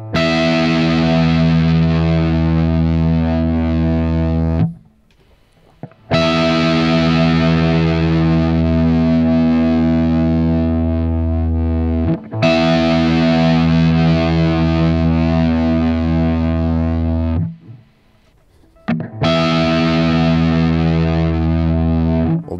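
Distorted electric guitar played through an Axe-Fx amp modeler, alternating a very high note and a very low note in long, thick sustained passages separated by brief silences, loud and close.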